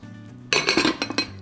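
Pot lid and dishes clink together in a home kitchen during palak paneer preparation: a quick burst of bright metallic rattles and knocks, close and fairly loud, with no voices.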